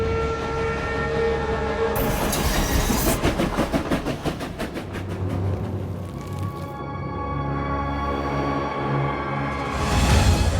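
An armored train in a Last Train Home game trailer rolls with rhythmic clattering wheels and bursts of horn or whistle, loud and close, building to a heavy pulsing run before easing into rumble, with no talk.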